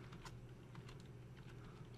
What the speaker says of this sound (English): I'm going to type Works Cited